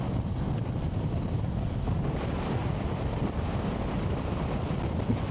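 Strong crosswind buffets a BMW F900GS motorcycle crossing a bridge, a steady loud roar of wind against the microphone with low rumbling throughout and no voices.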